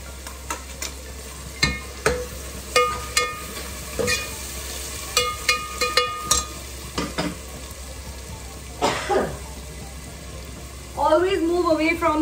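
Masala frying and sizzling in a pan on a gas stove during biryani cooking, with stirring clatters and scrapes coming in bursts, a steady sizzle beneath, and a voice joining near the end.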